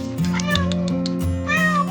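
A cat meows repeatedly and loudly at close range while being fed fish heads, the long drawn-out cries following one another with no voices.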